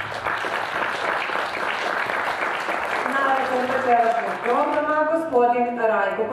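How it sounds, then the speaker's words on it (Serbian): An audience claps in dense, sustained applause at a folk singing performance, loud and close for several seconds before a voice rises over the continuing clapping. "Velikim aplauzom."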